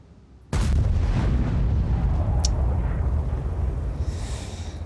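A tank cannon shot in World of Tanks: one sudden heavy boom that hits hard and then rumbles on as a dense, loud roar, fading slowly with a faint hiss near the end.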